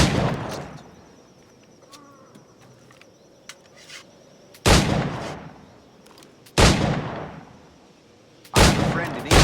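Loud shots from an old flintlock-style firearm in Assassin's Creed 4 Black Flag boom three times, about two seconds apart, each with a sharp crack and a rolling tail. Quieter ambient game sound fills the gaps before the first shot.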